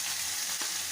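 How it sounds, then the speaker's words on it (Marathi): Chopped onion drops into hot oil in the same kadhai used to roast dried fish for a Maharashtrian sukat recipe, giving a steady loud sizzle with a brief stirring sound near the end; no one speaks. "आता ह्या तेलामध्ये आपण हा कांदा टाकून घेऊया"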